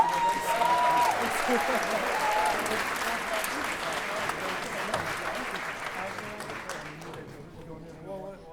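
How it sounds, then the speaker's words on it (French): A gala crowd applauds warmly for a singer taking the stage, loud and continuous clapping that slowly thins toward the end as voices begin to emerge. "Applaudissez très fort."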